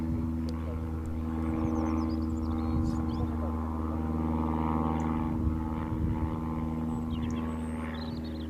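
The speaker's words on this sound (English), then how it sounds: "Another Paris Orly arrival for EasyJet." EasyJet Airbus A320ceo jet arriving at Bristol Airport, a steady engine roar and whine holding through the clip at moderate distance, with a faint voice murmuring underneath.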